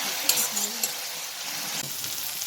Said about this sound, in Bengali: তো বন্ধুরা যে মশলাটা কষে নেওয়া হচ্ছে